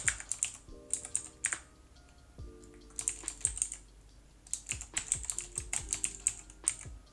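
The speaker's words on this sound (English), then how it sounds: "Sorry if my keyboard's clickety clackety" Rapid clicking keystrokes on a computer keyboard, loud and close, coming in dense bursts with short pauses between them, alone with no voices.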